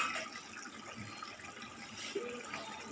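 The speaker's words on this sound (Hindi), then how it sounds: "अब हम इसके अंदर पानी शामिल करेंगे।" Water poured from a glass into a pot of boiled, softened potatoes in a home kitchen, a soft continuous splashing and trickle at low level with no talking.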